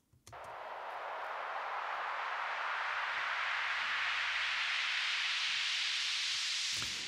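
A broadband progressive house synth riser sweeps steadily upward in pitch over several seconds, its noisy texture shaking and wavering constantly as it climbs, loud and sustained.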